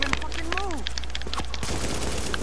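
Suppressing gunfire in the shooter game The Division rattles in rapid, clustered bursts of sharp shots, with a short vocal cry rising over the fire partway through.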